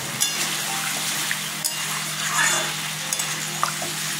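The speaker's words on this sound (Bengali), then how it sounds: "অল্প জল দিলাম" A little water poured into a pan of sizzling potato and papaya curry, giving a steady close frying hiss with faint splashes and clinks, quiet throughout.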